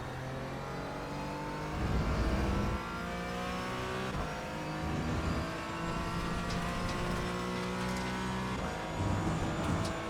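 A race car engine drones with shifting harmonic tones and repeated louder rev bursts as it downshifts through turns, steady and close with no talk.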